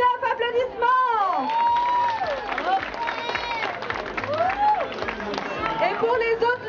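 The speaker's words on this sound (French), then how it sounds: "applaudissements" Applause and cheering from a crowd at a langoustine peeling contest during a seaside festival prize-giving, mixed with lively chatter and shouts throughout.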